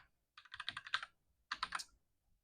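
A commit message is typed on a computer keyboard in two quick bursts of close, crisp key clicks separated by a short pause, quiet and without talk.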